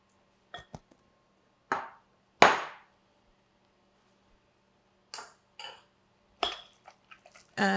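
Metal utensil knocking and scraping in a pot while stirring saltfish, a handful of sharp clinks and scrapes spaced irregularly with quiet gaps between, close and clear.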